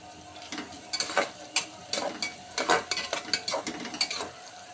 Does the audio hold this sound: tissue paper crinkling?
no